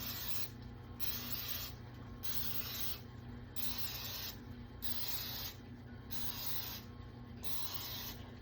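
Cooking spray misted onto a muffin tin in a home kitchen, a steady hissing spray in several short bursts close to the mic, with no talking.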